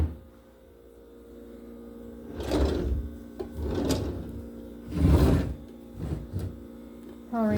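Dresser drawers being pulled open and pushed shut during a move-out inspection, a few soft wooden slides and thumps spaced a second or so apart over a low room hum, no talk.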